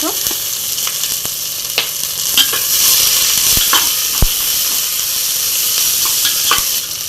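Thinly sliced onions frying in ghee and oil with whole pulao spices for a paneer biryani, a steady close sizzle broken by sharp spoon-scraping clicks against the pan.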